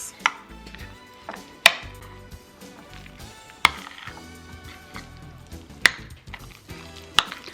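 A spoon stirs a spinach, mozzarella and parmesan lasagna filling in a bowl. Soft mushy scraping is broken by sharp ringing knocks against the bowl every couple of seconds, close and clear, with no talking.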